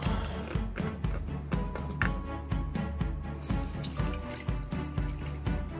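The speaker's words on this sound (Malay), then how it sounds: "Masukkan air dalam periuk." Water pours into a small electric cooking pot in a steady run, with a repeating rhythmic pulse and splashy texture, close and moderately loud, with no talking.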